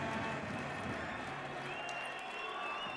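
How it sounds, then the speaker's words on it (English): Spectators at a handball arena during a Hungary versus Russia European Championship match roaring approval in a dense, steady wash of cheering and clapping, heard at a distance under a commentator's voice. "The crowd roar their approval."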